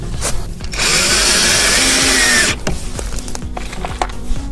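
A power drill drives self-drilling screws during building work, giving one loud, close whirring run of about two seconds, then a few softer clicks and handling knocks.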